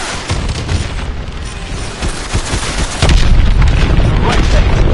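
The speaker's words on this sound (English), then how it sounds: "Lock onto those hard points and hit them with your missiles." Missile strikes slam into the hard points of a hydroelectric dam in Call of Duty: Advanced Warfare, with heavy booming blasts and rumbling under a constant roar of battle noise that grows louder and denser after the third second.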